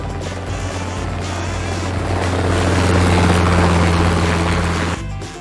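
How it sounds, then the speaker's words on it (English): Cartoon helicopter from a preschool vehicle vocabulary lesson, its steady rotor and engine drone holding throughout, swelling slightly louder toward the end before cutting off abruptly, with music underneath. "That's a helicopter."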